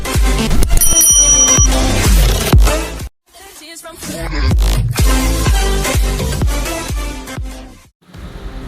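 Bright bell chimes ring over upbeat music in a notification sound effect, with several struck tones early on, a brief gap, then more music and ringing before it fades.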